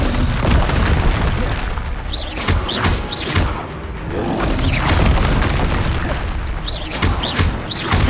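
Repeated heavy booming slams from the Descendo spell crash down in Hogwarts Legacy, several loud impacts with whooshing tails over constant dense combat noise.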